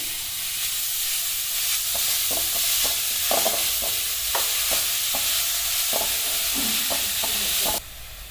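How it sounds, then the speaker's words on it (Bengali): Grated coconut stirred in a wok for Gokul pitha, a continuous soft frying hiss with repeated scraping stir strokes at an irregular rhythm, close and alone, ending with a brief shift near the end. "গোকুল পিঠের জন্য আমরা প্রথমে নারকেল দিয়ে দিচ্ছি কড়াইয়ে।"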